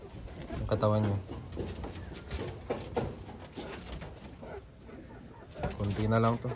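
Large Taiwanese racing pigeons newly arrived in a batch coo twice, near and clear, at the start and end, while someone talks through most of the stretch.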